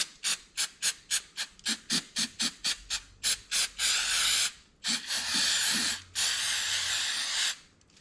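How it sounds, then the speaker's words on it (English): Throttle body cleaner sprayed onto a 1992 Firebird throttle body, starting as a rapid series of short hissing bursts and then turning into longer sustained sprays, loud and close with no talking. "First, I'm going to use throttle body cleaner, and we're just going to soak it down."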